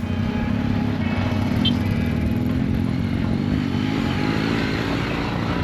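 Motorcycle engines rumble steadily nearby, a continuous loud road drone with faint clatter and no clear pauses.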